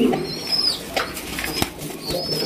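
Pigeons in a loft feed a chick, with soft cooing, brief wing flutters and a few faint high chirps, close and fairly quiet throughout.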